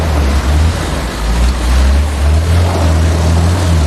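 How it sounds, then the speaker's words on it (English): A demolition machine's engine is driven hard at full power, a loud, continuous low roar with a steady throbbing drone that holds for the whole stretch, with no one talking over it. "They're completely thrashing that engine."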